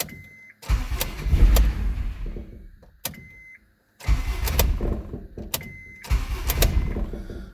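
Honda Civic engine after an overhaul, cranked three times with the key, each start a loud whirring crank that catches and runs unevenly for about a second before stopping, with short beeps between attempts.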